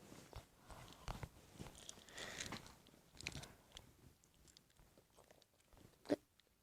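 Close, wet chewing and biting on food at a quiet indoor spot, soft crunchy mouth sounds repeating unevenly for several seconds, with one sharper crunch near the end; no one speaks.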